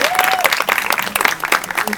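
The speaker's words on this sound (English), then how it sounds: "Big round of applause, thank you." At a digital assets conference, a crowd bursts into brief loud applause, crisp dense clapping close by with a few voices mixed in.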